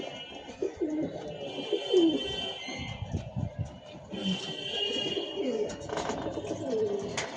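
Pigeons being herded into their loft, soft repeated coos and warbling calls close by, rising and falling in overlapping phrases with light rustling between.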